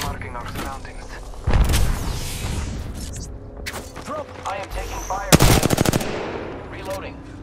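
Heavy gunfire in Apex Legends: sustained automatic bursts and booming impacts, with a sharp rapid volley near the end, under in-game voice callouts.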